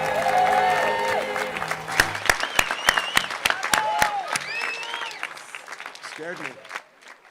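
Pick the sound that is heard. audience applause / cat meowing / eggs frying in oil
audience applause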